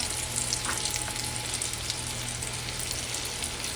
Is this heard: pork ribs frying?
yes